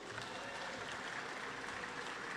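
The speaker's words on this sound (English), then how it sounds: "that, I think, is worthy of a round of applause" Audience applause at a steel pan music festival orchestra finals, a steady, dense wash of clapping filling the whole stretch at moderate distance, with no voice over it.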